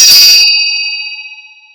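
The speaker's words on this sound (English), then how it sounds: "You can buy these bells." One bell strike opens with a loud metallic clang, then a pure, high ringing tone lingers and decays steadily, near and alone with no voices.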